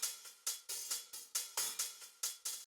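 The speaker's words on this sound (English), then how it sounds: "is a hi-hat loop, which sounds like this" Hi-hat loop in an alternative pop drum track: crisp, bright hits in a steady, slightly swung pattern of about ten strikes over under three seconds, each decaying quickly, heard alone before stopping abruptly.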